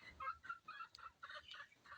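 Chickens cluck and murmur softly in a repeating pattern, fairly faint and at a short distance, with no talking.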